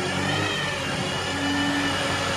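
A large diesel bus engine revving up close, a loud sustained mid-pitched roar with a steady hum, no voices.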